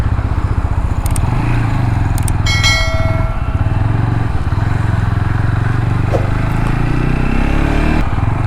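A TVS Apache RTR 200 4V motorcycle engine runs steadily through a tight turn, a close, even exhaust drone with brief clicks and scrapes near the start and a slight rise in pitch toward the end.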